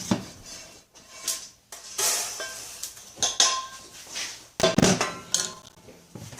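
Freshly stove-roasted coffee beans poured out to cool, heard as a series of close, clattering rattles and clinks in irregular bursts with short pauses between them.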